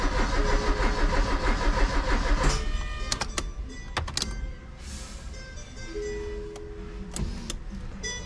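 The engine of a 1994 Chevrolet Monza GLS, stored for 19 years, cranks loudly and steadily for a couple of seconds, then cuts off. Scattered clicks and ticks follow in the near-quiet.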